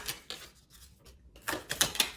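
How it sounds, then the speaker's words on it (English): Tarot cards being shuffled during a card reading, with a few soft papery riffling bursts, a quiet gap in the middle, then a louder cluster of crisp shuffling near the end, close and alone. "we're gonna get a few more shuffles"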